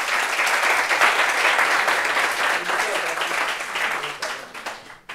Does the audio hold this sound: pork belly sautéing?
no